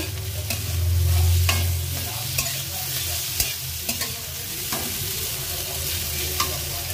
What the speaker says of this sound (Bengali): দিয়ে ভালো করে একটুখানি আদাটাকে কষিয়ে নেব, মশলাটা মিশিয়ে নেব